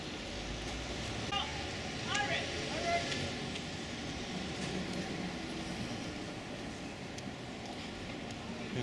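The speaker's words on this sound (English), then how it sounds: "Here comes another number 11 tram." A number 11 tram rolls toward the listener through a busy Basel street near the main station, a steady mid-distance rumble with brief high squeals and clanks, mixed with city traffic noise.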